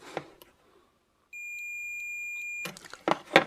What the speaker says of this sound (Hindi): ये पीएफ कंटिन्यूटी बीप मार रहा है